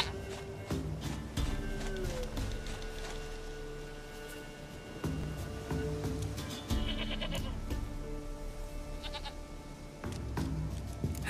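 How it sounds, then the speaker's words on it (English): A goat in The Witcher 3 bleats several times in short, repeated calls across a quiet game scene, mixed with soft footsteps and movement. "Goat of mine, dearest,"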